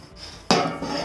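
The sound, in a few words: bread loaf being flipped over in a pan by the fireplace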